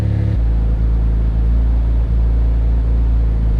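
A Mitsubishi 3000GT with a 6G72 engine on an AEM Series 2 ECU catches and settles into a deep, steady idle rumble after a brief cranking burst, running loud and close with slight uneven pulses as the throttle is feathered.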